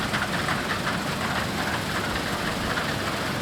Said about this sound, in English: There you can see the front header working, the reel bringing it in and the auger moving the grain across